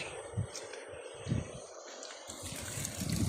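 Water gushes strongly from a solar-pumped water tank in a continuous rushing flow, with a few dull low thumps underneath.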